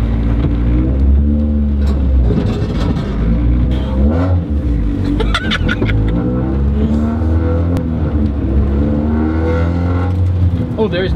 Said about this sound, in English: we're out, first drive in the CRX